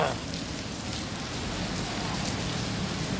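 Steady rain falling in Marikina, a dense continuous patter of drops hitting surfaces, fairly close and even throughout with no clear words.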